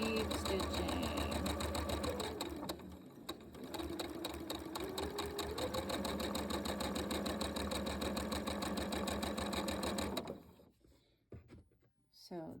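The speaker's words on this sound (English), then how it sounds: "you can put that right underneath the presser foot and just keep stitching." Sewing machine running steadily under the presser foot while chain-stitching quilt blocks, a continuous fast mechanical whir that stops near the end, with a person talking over it.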